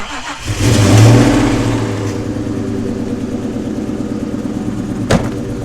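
A 2014 Ford Mustang 5.0 engine fires up and revs loudly through the exhaust, then settles into a rumbling idle with a brief knock near the end.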